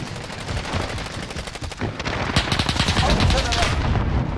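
Rapid automatic gunfire in a Warzone quads match, dense bursts of shots that crackle close and loud, with a louder cluster partway through and no clear talking.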